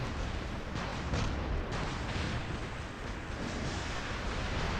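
Continuous rapid robot weapon fire and explosive bursts from the video game War Robots, a dense, loud roar of shots with no pauses.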